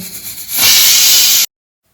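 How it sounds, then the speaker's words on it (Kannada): A kitchen pressure cooker whistle blasts steam in a loud, continuous hiss lasting about a second, then cuts off abruptly into silence. "ಈಗ ಆಲ್ರೆಡಿ ಕುಕ್ಕರ್ ಸಿಟಿ ಆಗತ್ತೈತಿ"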